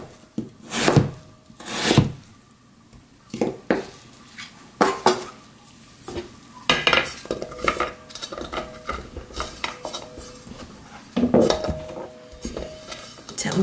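Radish pieces laid in the bottom of a pot for braised half-dried pollack, with sharp knocks and clanks of cookware and utensils in irregular bursts, close by, with no talk.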